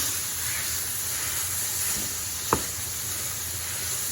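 Steady, soft sizzling of onion frying in a pan, a continuous hiss with one brief click partway through.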